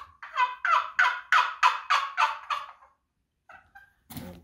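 A rapid series of about nine raspy turkey yelps from a box call, loud and close, then a couple of short clucks after a pause.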